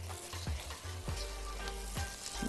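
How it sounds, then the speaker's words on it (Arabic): Onions and spices sautéing in a pan, with a continuous bright sizzle broken by a few soft thumps of stirring, close and moderately quiet with no talking. "هنشوح البصل، نديله أطراف بني كده"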